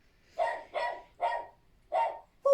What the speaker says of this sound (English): The dogs are always barking, aren't they?